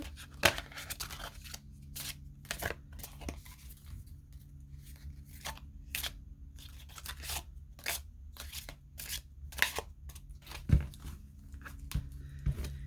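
Crisp, irregular papery snaps and slides of tarot cards being shuffled, close and quiet, repeating in short bursts with brief pauses between.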